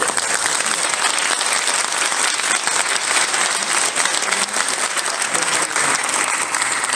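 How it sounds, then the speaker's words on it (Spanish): Loud, continuous audience applause filling an auditorium at a national economists' congress panel, dense clapping held evenly for about seven seconds without talk. "Un aplauso por favor."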